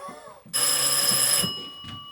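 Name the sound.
telephone ringing in a theatre play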